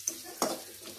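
Food frying lightly in a pan at home, a soft steady sizzle with a short louder burst of stirring midway, no talk.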